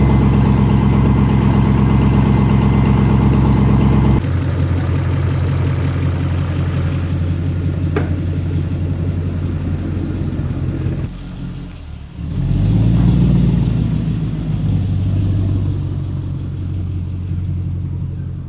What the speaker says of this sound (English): there's no exhaust on here, so just open headers. That's why it's so loud.